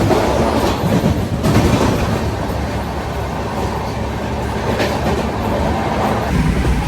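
A train rolls steadily along the rails with a continuous rumbling roar and faint rhythmic clatter, loud and close, as if heard from inside a carriage, on a long-distance journey from Mumbai to New Jalpaiguri.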